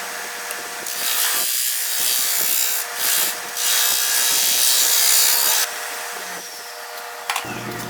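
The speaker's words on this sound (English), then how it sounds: "I'm going to go ahead and cut this tenon off with a 5/8 bowl gouge." A 5/8 bowl gouge shaves the tenon off a sweetgum stump and resin bowl held in cole jaws on a lathe, giving a loud continuous scraping hiss broken by brief pauses and ending abruptly.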